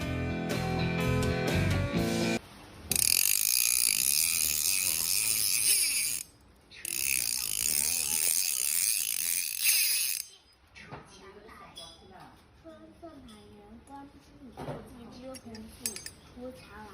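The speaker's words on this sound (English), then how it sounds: "She turns the spool for a final inspection, confirming that this fishing reel operates smoothly." A fly fishing reel's spool is turned by hand, giving bursts of rapid ratchet clicking that start and stop, with quieter mechanical handling sounds between them.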